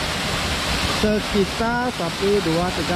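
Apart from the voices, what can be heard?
Tibu Sampi waterfall in Bali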